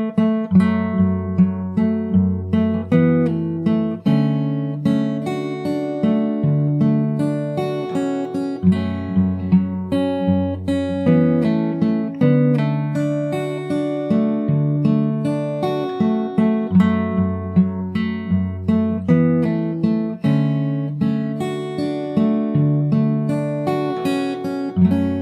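Fingerstyle acoustic guitar plays a pre-chorus, rolling arpeggiated chords in a steady rhythm, close and full, with no voice.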